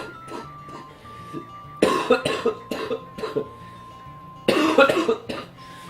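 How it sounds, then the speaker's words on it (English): A person with a lingering cough coughs in repeated harsh bursts, first a small cluster and then two louder fits, close to the mic, over a quiet game background with a steady tone. "I got this cough, and it won't go away, unfortunately."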